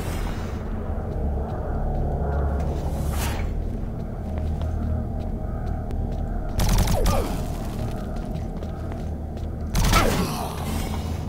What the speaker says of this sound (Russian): с пару выстрелов от плазмы